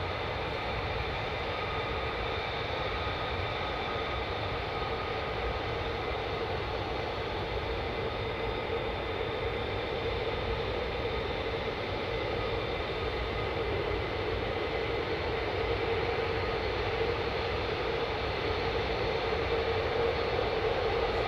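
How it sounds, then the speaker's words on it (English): Lockheed F-35A fighter jets fly overhead, producing a continuous, even roar of engine noise that holds steady without rising or fading, with no voices. "these are F-35As, I believe, which are the non-vertical takeoff VTOL aircraft"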